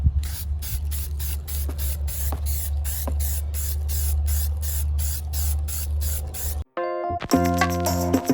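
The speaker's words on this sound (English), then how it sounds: "shake that can up, mix that paint, add the second coat" Primer sprays from an aerosol can onto a boat propeller for a second coat, in a steady series of short hissing bursts over a low hum, ending with a brief pause and some clicking and handling noise.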